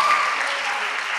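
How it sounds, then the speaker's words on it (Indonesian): Audience applause at a youth leadership session, dense and steady clapping from a crowd filling the room, loud and continuous throughout. "kasih tepuk tangan buat teman-teman semuanya"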